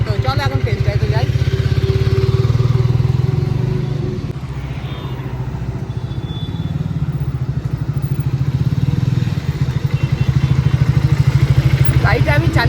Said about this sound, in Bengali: চলো এখন আমি চালিয়ে দেখি কেমন করেছে বাইকটা